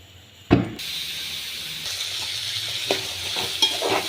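Mustard seeds and urad dal crackle and sizzle in hot oil after a sharp clatter, a steady frying hiss with small pops throughout.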